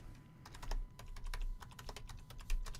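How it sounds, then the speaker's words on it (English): Close keystrokes on a computer keyboard as a search is typed, a steady run of crisp clicks over a low room hum, with no voices. "Let's type in daddy long legs."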